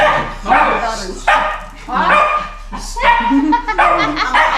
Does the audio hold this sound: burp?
no